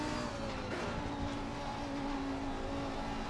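Race car engine in Assetto Corsa Competizione during a Nürburgring Nordschleife 24-hour endurance race, held at steady high revs with a continuous loud drone throughout, no pause off throttle.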